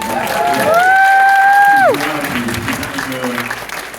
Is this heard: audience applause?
yes